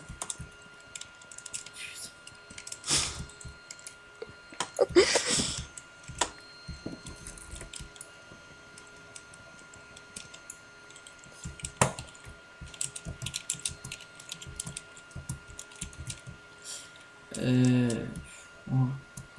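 Computer keyboard typing runs in scattered bursts across the stretch, fairly close and moderately loud, mixed with other clicks and brief voices.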